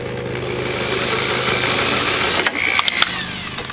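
Drill running with a steady mechanical whine and hum, close and loud, with a few clicks and a short high squeal toward the end.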